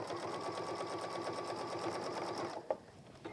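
A sewing machine stitches a messenger bag in a rapid, steady run up close, then stops abruptly, leaving a few faint handling clicks.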